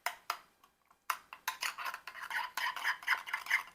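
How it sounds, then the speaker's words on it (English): Lemon aioli with fresh dill being stirred in a bowl, giving a close run of quick scraping and light clinking taps that start sparse, then turn steady and busy after a brief pause. "Just mix that very well."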